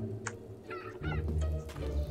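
Chicken in the video game Fable Anniversary gives a couple of short, nasal clucks over a steady low game rumble, with a brief sharp chirp just before them.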